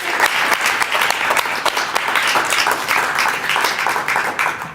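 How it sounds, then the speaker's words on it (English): Crowd applause at an outdoor West Broad Street funding announcement, a full sustained burst of many people clapping, dense and loud for several seconds with occasional cheers mixed in. "yes, definitely clap"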